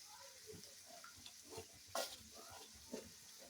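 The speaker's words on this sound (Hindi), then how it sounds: "अब हम इसको अच्छी तरह से मिक्स करेंगे इसके अंदर" Mashed tomatoes being stirred into browned onions in a pan for karela sabzi, a soft sizzle with scraping stirs and a few brief louder clatters of the spoon, close and steady, with no talking.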